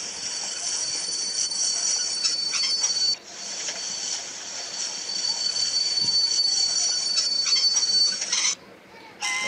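Steady high-pitched squeal of train wheels braking as a train pulls into a station in a train video game, sustained and loud with brief dips near the end.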